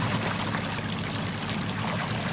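Water emptied slowly from a bucket into a circulating stream that flows into a koi pond, a continuous close rush and trickle of moving water, steady and fairly loud from start to finish.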